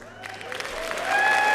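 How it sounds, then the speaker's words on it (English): Conference audience at a party annual conference breaking into applause, starting sparse and swelling louder over a brief moment, with a sustained tone running underneath. "I knew that would get a clap."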